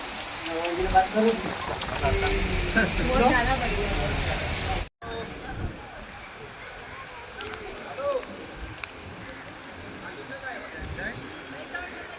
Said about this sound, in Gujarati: અત્યારે બારીશ ચાલુ છે.